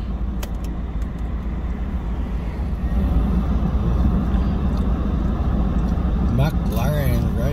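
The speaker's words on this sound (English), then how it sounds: "That's a McLaren." A McLaren 720S Spyder supercar passes nearby on a road, its engine a steady rumbling drone that swells slightly partway through, mixed with traffic noise and a brief higher whine near the end, with people talking over it.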